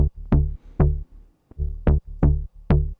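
A synth bass line for an electronic drop, two-layer patch built in a Dune-sampled track, playing short repeated deep plucks in a bouncy rhythm with brief gaps, loud and upfront with no voices.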